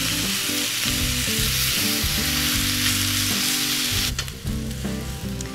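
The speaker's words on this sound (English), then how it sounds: "We're almost done browning the turkey" Ground turkey browning in a pan, a loud continuous sizzle close up with a low-pitched background tone and a brief stir near the end.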